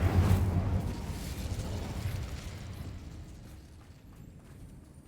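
The Incendio fire spell in Hogwarts Legacy goes off with a loud, whooshing burst right at the start, then fades into a roaring rumble that dies away over a few seconds.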